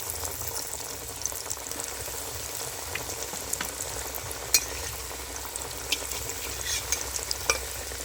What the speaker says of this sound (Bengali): এবার বাকি চপগুলো আমি একই রকম করে ভেজে নেব।